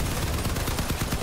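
Gunfire in the vehicle combat video game Crossout, a rapid, loud rattle of repeated shots packed into about a second over dense battle noise.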